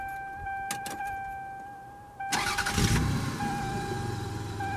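A 1994 Toyota Camry's engine is started up close: a brief chime tone, a short cranking burst, then the engine catches and settles into a steady idle.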